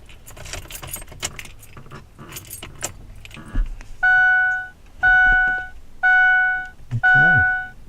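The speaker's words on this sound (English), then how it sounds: "Let's turn the car on" Keys jangle and rattle close by in a 2004 Ford Explorer, then a steady electronic warning chime sounds four times in an even rhythm, each tone about a second long, with no engine cranking or running.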